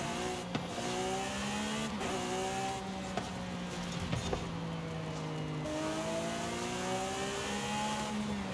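Supercar engine racing on street roads in Forza Horizon 5, rising and falling through repeated gear shifts with rasping revs and brief tire noise, steady and continuous without talk.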